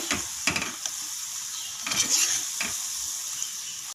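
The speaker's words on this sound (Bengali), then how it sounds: "এখন আমি এগুলো সব তেলের মধ্যে আস্তে আস্তে করে দিয়ে দিব। লাল করে ভেজে নেব।" Madan katkati sweets deep frying in hot oil, a steady close sizzle with a few sharp stirring clatters scattered through.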